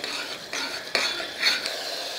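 Tomato masala sautéed and stirred in a pan for a drumstick curry, with steady soft sizzling and a few clinks and scrapes of the spoon against the pan, close and continuous with no talk.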